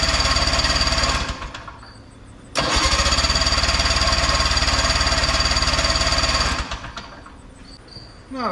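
Two-stroke engine on a Big MAX 6x6 amphibious machine cranking with the choke on, a loud steady mechanical churning in two long bursts with brief pauses between, no voices.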